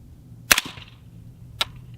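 Two sharp suppressed rifle shots from a Bowers VERS 30 suppressor firing subsonic ammunition, each a crisp close crack with a brief tail, about a second apart, with quiet between them.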